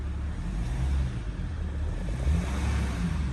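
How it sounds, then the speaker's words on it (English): A Maserati V8 engine runs in sport mode with a diesel sport exhaust fault, giving a steady deep rumbling idle with slight low throb, moderately loud and close, without talk. "Only the engine sounds."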